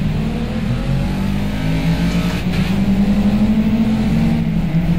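A race car in the Project Cars VR racing game accelerates hard, its engine note a loud, steady, rising drone that holds for the whole stretch with no talking.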